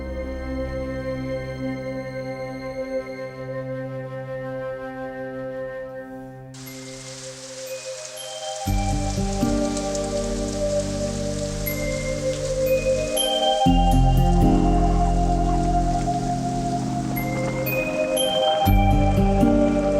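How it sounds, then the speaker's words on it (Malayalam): Heavy rain pours down in a night scene of a Malayalam horror film, a steady broadband hiss of falling water mixed with sustained, swelling background music. "എന്തൊരു മഴ."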